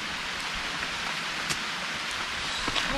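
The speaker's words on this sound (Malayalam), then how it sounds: "മഴ പെയ്തു കഴിഞ്ഞു. നല്ല മഴ സീൻ." Steady rain falls outdoors, a continuous even hiss with a few louder drops standing out, and no voices.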